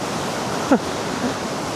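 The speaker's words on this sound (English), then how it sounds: "There's a waterfall over there." Continuous broadband rushing of a waterfall in Turkey, steady and fairly loud, with a brief faint vocal sound partway through.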